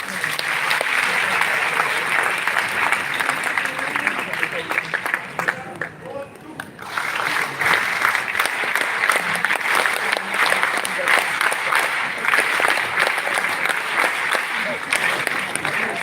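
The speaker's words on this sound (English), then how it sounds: "we can have one more huge round of applause for Meeta ma'am" Festival audience at a national youth festival session breaks into sustained, loud applause, dense clapping filling the hall with a short dip midway before swelling again.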